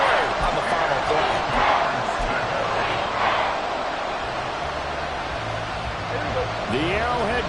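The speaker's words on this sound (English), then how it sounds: "The Arrowhead crowd in full roar." A packed football stadium crowd roars at Arrowhead during a late-game third down, a loud, sustained wall of noise throughout with a commentator's voice over it.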